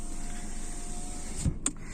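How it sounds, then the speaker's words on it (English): A Tata Nexon's power window whirs up with a steady electric motor whine, then stops with a soft thump near the end. The sound is close and clear, with no speech. "Now we'll just turn it off and roll up the window."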